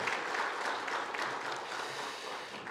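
A Korean church congregation applauds during a Sunday worship service, an even, sustained wash of many hands clapping at moderate loudness with no talk.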